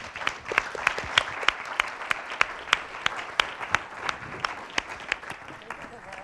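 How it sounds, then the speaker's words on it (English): An audience at a tech meetup panel applauds steadily, a moderately distant wash of many hands clapping with individual sharp claps standing out, fading slightly toward the end. "So they all deserve a round of applause."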